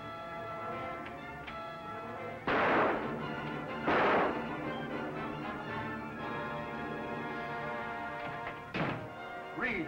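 Gunshots in a 1940 film: a few sharp, loud reports spaced a second or more apart, with a last shot near the end, over a busy, dramatic orchestral score.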